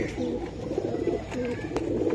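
A female jumper pigeon coos in low, soft, repeated rounded notes at close range over a steady background hum, with a voice faintly present.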